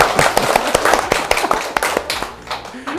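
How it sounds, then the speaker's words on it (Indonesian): A short burst of hand clapping in a rural classroom, uneven individual claps in a quick scattered rhythm, fairly close and moderately loud, with some voices around them. "Terima kasih buat Firsa, tepuk tangan dong."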